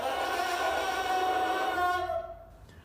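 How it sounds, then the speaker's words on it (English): A homemade bassoon reed made from sycamore seeds, crowed alone without the instrument: a thin, buzzy, reedy tone held steadily for about two seconds before cutting off, faint and close. "So what does a reed sound like? It sounds like this."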